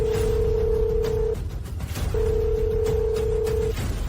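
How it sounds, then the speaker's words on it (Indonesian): A telephone rings with a steady electronic tone that sounds in two long bursts separated by a short pause, over a low background hum. "Telepon."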